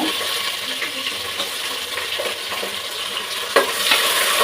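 Sliced onions sauté in a pan for tomato rice, a steady hissing sizzle with occasional stirring scrapes and a brief clink near the end, close and continuous.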